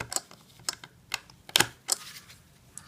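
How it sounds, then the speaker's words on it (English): A screwdriver tightens screws into the terminals of a Sonoff smart switch. The result is a string of sharp, close clicks and creaks, spaced unevenly, with no talking. "you can tighten those screws"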